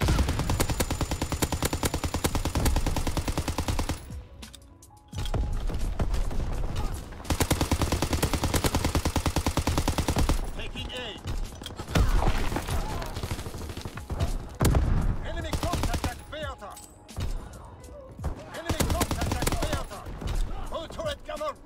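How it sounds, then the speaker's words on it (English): A ball turret killstreak fires in a WWII-era online shooter match, with dense, loud, rapid automatic gunfire that runs almost continuously. Brief pauses break it up, along with scattered thuds and impacts. "I'm using ball turret."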